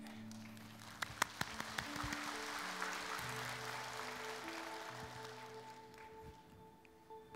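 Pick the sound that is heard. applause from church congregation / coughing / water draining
applause from church congregation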